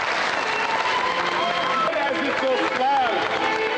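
A crowd gives a standing ovation, applauding steadily and continuously at the İNEPO-2013 closing ceremony while a voice talks over the clapping.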